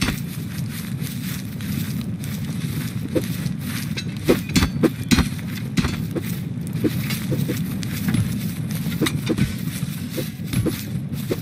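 Horse hooves clip-clop in the medieval war game Anvil Empires, a steady run of soft thuds with a few sharper, louder strikes over a continuous background rumble.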